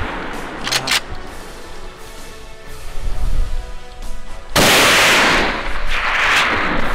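Gunshots at a deer hunt on a Spanish montería: sharp loud rifle reports, a couple early and a heavy blast near the middle, rolling echo in open country, no talk.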